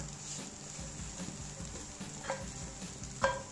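Instant noodles sprinkled with seasoning powder are stir-fried in a pan, a steady close sizzle with soft scraping stirs and a couple of sharper utensil clinks near the end.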